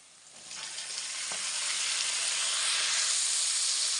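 Tomatoes hit hot oil in a pan for egg curry, a bright hiss that swells within the first second and settles into a loud, steady sizzle with a faint clink, no voices.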